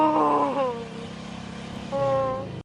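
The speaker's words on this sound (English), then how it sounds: "it actually sounds like this dude's crying." A man cries from a played video, letting out two drawn-out, wavering moaning wails separated by a short pause.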